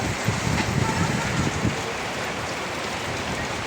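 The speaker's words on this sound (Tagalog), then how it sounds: "Ngayon, biglang buhos ang ulan." Heavy rain pouring down suddenly on a dark day, a dense steady hiss with some drumming on a nearby surface and light wind buffeting, continuous throughout.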